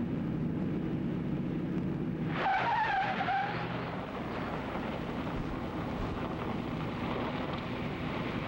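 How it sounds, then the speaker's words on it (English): A car braking hard from about 45 mph in a crash avoidance maneuver lets out a loud tire skid squeal over steady wind and road roar, rising sharply partway through and then fading back into rumble. "braking action, however, must be carefully controlled to get maximum braking without locking the wheels"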